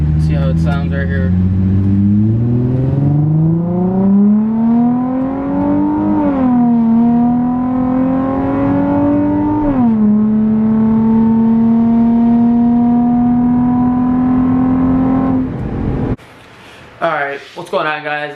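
A Nissan 350Z with a Tomei Expreme Ti titanium exhaust pulling hard through third gear, the engine note rising in a long loud climbing wail with brief dips at shifts, then cutting off near the end followed by short voices.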